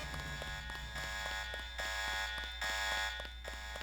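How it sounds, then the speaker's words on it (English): A continuous electronic alarm blares from the Deus Ex video game, steady and loud with regular pulsing beats and a sustained high tone throughout, with no voices over it. "that's just alarms that we don't need to set off"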